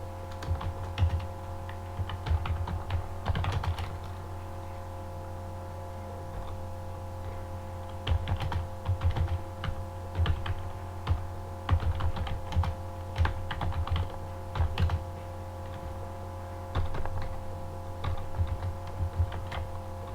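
Typing a sentence on a computer keyboard in MS Word: steady bursts of close key clicks over a constant electrical hum, with no talking.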